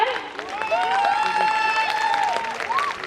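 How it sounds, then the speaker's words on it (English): Steady applause from an audience at a school scholarship ceremony, dense clapping with some cheering and shouts mixed in for a few seconds. "Can we have a huge round of applause for her?"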